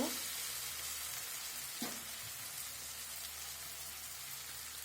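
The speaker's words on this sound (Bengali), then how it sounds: "পেঁয়াজগুলো একটু ভাজা হয়ে এসেছে, আমি মশলাগুলো অ্যাড করে দিব।" Onions fry in hot oil in a pan for a spicy fish curry, giving a continuous close sizzle with a brief stirring scrape partway through.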